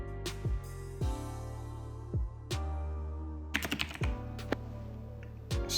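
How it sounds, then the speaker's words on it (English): Keys are typed in bursts during a typing speed test, with sharp clicks and clacks and some heavier thumps, fairly close and moderately quiet, alone without talk. "You have the words, and you just have to type them into the box."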